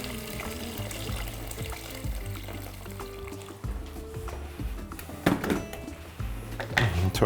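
Boiled water, 1.5 litres, poured into a soup pot with a continuous trickling, splashing flow, a few louder splashes and knocks toward the end.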